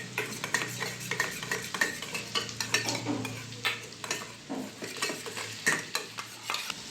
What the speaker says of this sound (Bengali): সসটা আমি চামচ দিয়ে মিশিয়ে নেব।